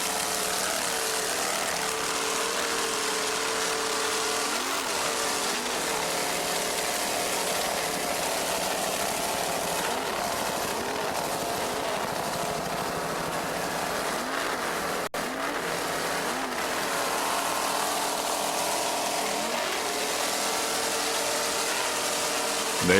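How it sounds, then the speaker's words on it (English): Two 610-horsepower Chevy inboard engines power a racing boat, giving a loud, continuous roar that holds steady for the whole stretch, with no voices over it. "Let's listen to those two 610 horsepower Chevy inboards."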